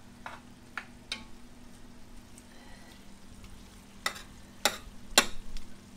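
Garlic cooking in a jambalaya pot, stirred a few times: scattered utensil scrapes and knocks, the last ones louder and nearer, over a low steady simmer.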